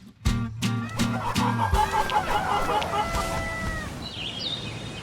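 Chickens cluck and a rooster crows loudly and close at hand, with softer clucking and bird calls continuing through the rest.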